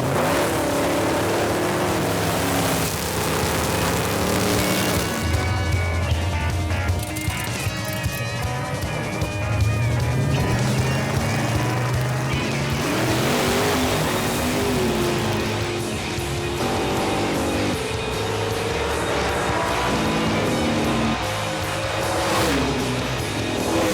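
A race car engine roars and revs, rising and falling in pitch as it accelerates, loud and continuous with a busy crowd-like background.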